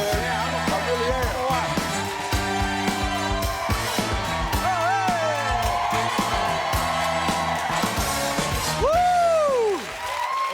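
A studio audience on the Steve Harvey talk show cheers, whoops and applauds for actor Michael Peña, a loud, sustained crowd roar that blends with upbeat band music throughout.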